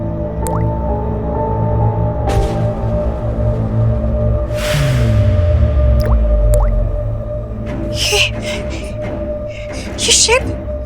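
Water drips and squishes in a spooky horror story scene, sharp loud drops over a steady droning music bed, with voices talking at times.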